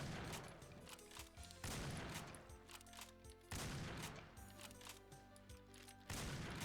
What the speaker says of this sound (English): That just adds so much charm to this already goofy rocket launcher.